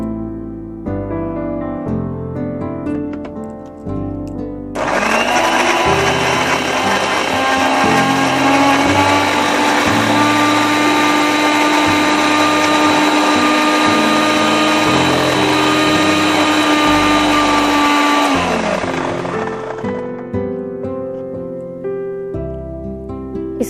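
A kitchen blender purees a green chicken marinade in one continuous, loud whirring run lasting about fourteen seconds, with its motor pitch dipping slightly as it works, starting and stopping abruptly.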